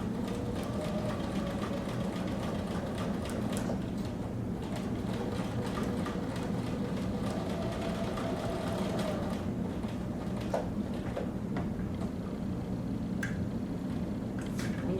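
Sewing machine running slowly and steadily while stitching a pocket onto a body through a very thick fabric edge, a continuous low mechanical hum with faint repetitive ticking.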